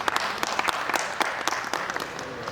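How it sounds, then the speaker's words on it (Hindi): A theatre audience gives a guest applause at a drama festival, many hands clapping in a dense steady wash with a few sharper nearby claps standing out. "इनके लिए जोरदार तालियां।"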